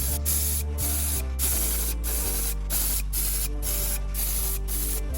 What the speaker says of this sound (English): Just go ahead and spray all those pieces down.